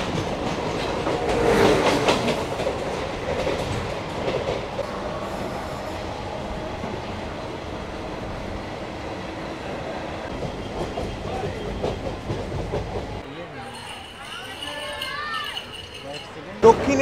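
The new Kolkata to Digha train 03161 runs on its rails with a loud, continuous rumble and rhythmic clickety-clack wheel beats. Near the end the sound drops to a quieter, thinner texture.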